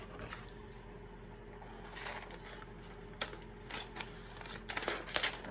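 Scissors cutting paper for a junk journal, making several short snips and crisp rustles that grow busier toward the end, close and fairly quiet in a still room.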